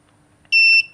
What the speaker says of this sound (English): once it hits 60 it should beep